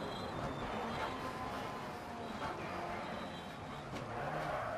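A rally car in Dirt Rally brakes hard into a sharp right turn on a Hammerstein stage, with steady engine drone, shifting revs and tyre scrub on tarmac, heard continuously from the cockpit.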